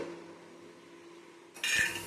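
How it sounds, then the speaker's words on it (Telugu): A lid comes down on a metal cooking pot of bitter gourd pulusu with a sudden, fairly loud metallic clatter near the end, after a quiet stretch of low kitchen hum. "మూత పెట్టేద్దాం ఒక 5 నిమిషాలు"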